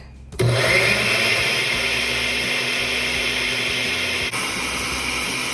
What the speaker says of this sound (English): now we're just about done blending